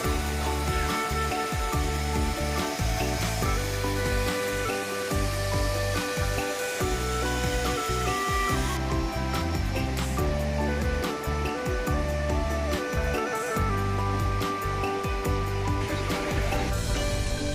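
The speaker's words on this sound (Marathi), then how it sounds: "सुंदर असे धबधबे चालू आहेत या ठिकाणी तुम्ही पाहू शकता" Rushing water pours continuously, a dense, steady roar of small mountain waterfalls nearby on the way to Harishchandragad fort, with no voices.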